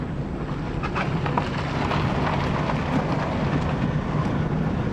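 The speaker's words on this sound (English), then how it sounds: "I'm going to enjoy my nice quiet neon ride before I sell it" Steady broadband road and wind rumble from inside a quiet Neon car on the move, a continuous even drone with no talking.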